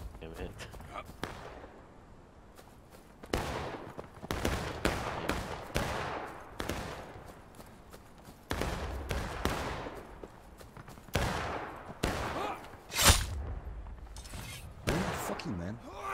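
Musket volleys in the Civil War game War of Rights, with repeated loud booming shots, some single and some overlapping in ragged bursts, echoing across open ground, while players talk over the gunfire.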